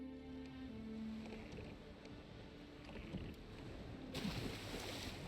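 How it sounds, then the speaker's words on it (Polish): Boat in The Witcher 3: Wild Hunt moving through water, a steady low wash of water and hull sound with faint wind, fairly quiet and continuous, with no talk. "Będziemy musieli płynąć łódką."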